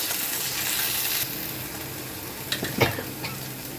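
Ginger-garlic paste stirred into fried onion and chilli in a pan, with a steady close sizzle and a few short scraping, clinking stirs near the end.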